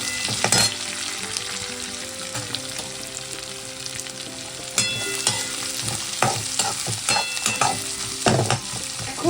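Chopped onion and garlic fry in a pan, a close steady sizzle broken by scraping stirs and sharp clinks of a utensil against the pan, with no voices.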